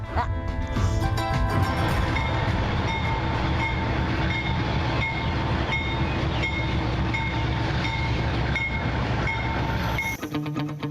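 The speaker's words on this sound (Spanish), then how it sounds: "Me voy de una vez porque si no el tren nos va a dejar." A train of the Ferrocarril Central Andino in Peru, near San Bartolomé station, rumbling close and loud with steady rolling wheel noise and sustained horn-like tones throughout, with no talk.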